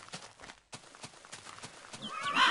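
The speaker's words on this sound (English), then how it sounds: "Ooh, we got more horses." Minecraft horses: hooves clip-clop in a quick, uneven rhythm, and a horse snorts or whinnies briefly near the end.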